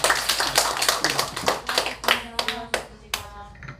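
A church congregation at a Sunday morning service claps in a brief burst of scattered, close hand claps, a few distinct sharp claps trailing off near the end.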